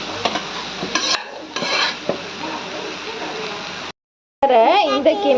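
Beetroot tipped into a hot pan and stirred for beetroot halwa, with a steady sizzle and scraping stirs. A brief silent gap is followed by a louder burst of frying and stirring.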